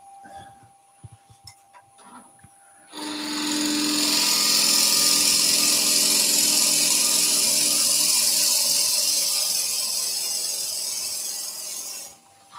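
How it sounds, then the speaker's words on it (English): After a few quiet seconds, a power drill kicks in and whirs loudly and continuously, drilling into wood, for about nine seconds before cutting off. "I'm not going to drill all in one hit because the drill bit will get stuck."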